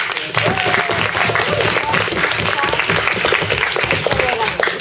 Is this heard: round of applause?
yes